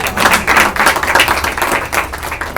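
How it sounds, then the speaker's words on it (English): Audience at a school board meeting breaking into loud, dense applause, many hands clapping close and continuous with no speech over it. "give them a round of applause"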